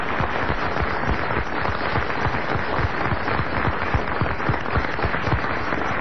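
Radio show studio audience applauding in tribute to the late writer Frédéric Dard: a dense, steady wash of many hands clapping at close range, sustained evenly throughout with no voices over it.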